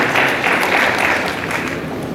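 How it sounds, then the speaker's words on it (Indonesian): Applause from a church congregation during an Indonesian-language sermon, a steady wash of clapping that fills the whole short clip at even loudness with no voice over it. "Yang setuju berikan tepuk tangan yang meriah."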